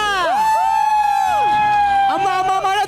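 An audience of mothers at a game show shouts and whoops loudly, with long rising and falling voices ringing out over crowd noise.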